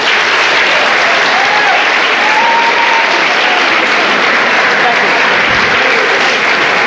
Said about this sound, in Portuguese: Pode ir palmas.